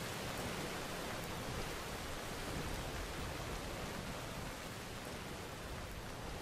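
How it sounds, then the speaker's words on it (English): Steady, dense hiss of heavy rain in Skyrim weather, loud and unbroken throughout with no voices. "I'm talking louder when it's raining, because that was insanely noisy"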